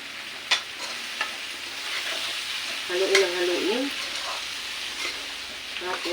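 Potato marbles stirred in a pan with a steady sizzle underneath, marked by a few sharp scraping clicks and a brief clatter near the middle, with faint voice-like sounds in the background.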